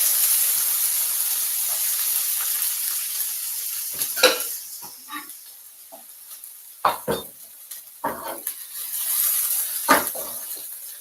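Sliced onions hitting a hot pan and frying, a steady bright sizzle throughout with several clattering stirs and pan knocks in the second half, close and fairly loud with no talk.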